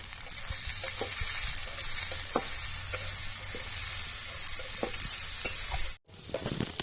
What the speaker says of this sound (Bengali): এবার এই পেঁয়াজটা দিয়েও ভালো করে ভেজে নেব।